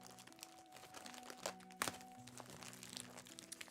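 Paper or plastic manga package wrapping torn open by hand, a quiet crinkling and ripping with one sharper crack midway, heard over soft background music with no speech.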